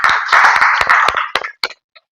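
Audience applause for Pawar sir at a gathering on the silk industry in Solapur, a loud dense burst of many hands clapping that tapers off over about a second and a half, ending in a few scattered claps.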